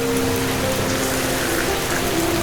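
Steady rain falls on a rainy day outside a home while a family shares chicken soup at lunch, a constant near, even wash of drops with a faint low hum running beneath it.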